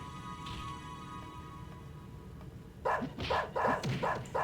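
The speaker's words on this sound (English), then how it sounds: "They just make regular barky bark noises." Beetle wolves in the video game Mabinogi bark in a quick run of sharp, repeated yelps over a low steady game hum, starting after a quiet stretch and continuing to the end.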